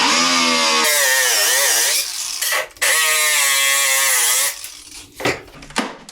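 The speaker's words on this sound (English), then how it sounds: "you're going to be forced to cut them off to get the scraper bar out of your way and get the remainder out" Power tool cutting through broken paddles on a Toro snowblower to clear the scraper bar, a loud continuous whining saw tone for several seconds that dips briefly, resumes, then stops with a few short bursts at the end.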